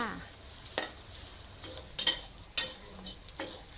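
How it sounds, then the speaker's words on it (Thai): Garlic and shallots fry in hot pork lard, a soft steady sizzle punctuated by a few sharp scraping stir strokes from a spatula, close and fairly quiet with no talking. "น้ำมันพอร้อนค่ะ ใส่กระเทียม กับหอมแดงลงไปนะคะ จัดการเจียวให้เหลืองหอมเลยค่ะ"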